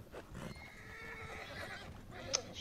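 A horse in the Red Dead Redemption Online video game gives a short whinny over a faint clip-clop of hooves, heard fairly quietly over a couple of seconds with no talk.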